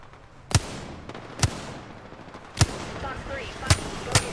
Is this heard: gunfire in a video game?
yes